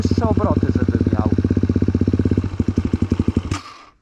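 A fuel-injected KTM motorcycle idles at low revs with a rapid, even putter of firing pulses that grows slightly uneven and fades near the end, close and moderately loud.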